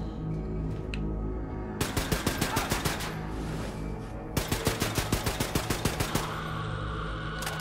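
Two loud bursts of rapid automatic weapon fire in Wolfenstein II, evenly spaced shots rattling off in quick succession over a low game rumble.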